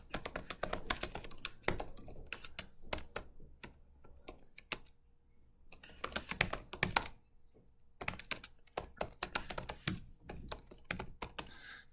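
Typing notes on a computer keyboard, close and fairly quiet, with bursts of rapid key clicks broken by short pauses and no speech.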